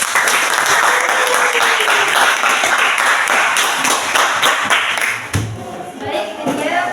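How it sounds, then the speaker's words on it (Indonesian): A classroom audience claps for a group presentation, with dense, loud applause that runs steadily for about five seconds before thinning out into a few scattered claps, a voice briefly heard beneath. "Oke, beri aplaus."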